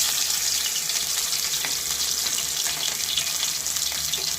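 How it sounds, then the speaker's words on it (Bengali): Fish frying in hot white oil in a wok, a loud, dense, continuous sizzle and crackle with small pops scattered throughout. "মাছগুলো আমি ভেজে নেব।"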